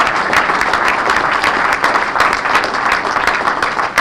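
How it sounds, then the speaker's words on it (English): Steady, dense applause from an audience at an economic development commission breakfast, many hands clapping together at an even level for the whole stretch, close and full without a clear break. "let's give him a round of applause for being here."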